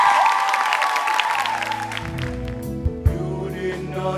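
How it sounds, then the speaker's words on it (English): A crowd at a high school singing competition applauds Jose Marti High School, clapping steadily as music with sustained tones swells in and gradually takes over. "A round of applause, please."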